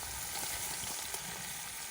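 Chopped onions fry in hot oil for an egg and potato curry, a steady close sizzle and crackle running evenly throughout with no voices.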